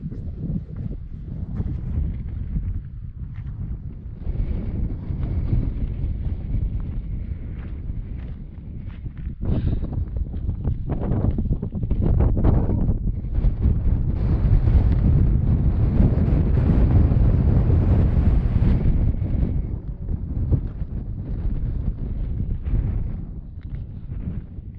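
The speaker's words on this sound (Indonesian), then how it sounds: "Angin puncak memang kenceng-kenceng" Strong, steady wind buffets the microphone at a mountain summit on Arjuno-Welirang near Pasuruan, a loud continuous roar with gusty swells and some rustling, no speech.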